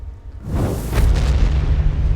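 The magma piercer fire skill in the Devilian video game goes off as a loud, close explosive boom that swells into a sustained rumbling roar.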